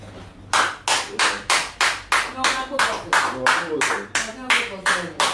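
Roughly fourteen sharp, evenly spaced claps in a steady rhythm, as a group at a staff meeting applauds itself, loud and close with faint background murmur.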